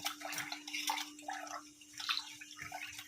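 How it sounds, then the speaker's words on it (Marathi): Rice is rinsed by hand in water to make varan bhat, giving close splashing and sloshing bursts with a faint steady hum underneath. "स्वच्छ धुवायचं तीन पाण्याने तांदळाचं सगळं हे निघून जाते"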